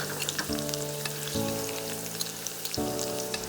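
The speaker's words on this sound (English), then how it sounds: "Put in 5 garlic cloves and a few slices of ginger for quick saute." Garlic cloves and ginger slices sizzle in hot aromatic oil in a wok over high heat, a steady close frying crackle with a few stirring surges throughout, no voices.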